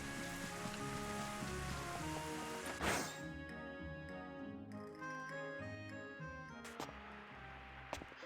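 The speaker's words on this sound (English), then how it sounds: "Yes, it's a rainy day." Steady rain falls in the video game Rune Factory 5, a soft constant patter under layered in-game music with a faint chime or two, fairly quiet throughout.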